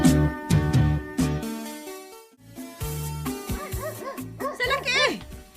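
A dog barks in short bow-wow bursts during an Ilocano comedy drama scene, the yips mixed with music and voices talking around it.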